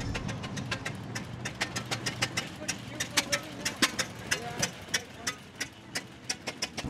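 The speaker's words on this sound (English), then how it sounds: "That chuck-a-da-chuck-a-da noise you're hearing from the engine" A horizontally opposed two-cylinder engine chugs with a loping, uneven rhythm of rapid ticking beats, running steadily nearby under a low rumble at a speed festival.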